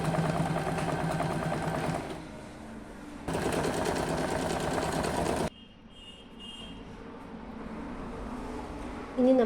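Electric sewing machine stitching a party-wear kurti, two sustained runs of fast steady whirring separated by a pause, then quieter handling noises.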